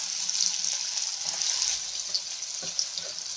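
Okra tipped into a hot pan with cumin and turmeric sizzles and fries steadily, a bright hissing crackle with a few soft knocks from the pan and spoon.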